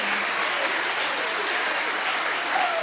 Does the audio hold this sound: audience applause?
yes